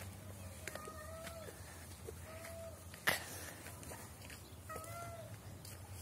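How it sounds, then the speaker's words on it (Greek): A cat meows several times, short drawn-out cries spaced a few seconds apart, over a quiet room with low background hum. "Αυτή νιαουρίζει."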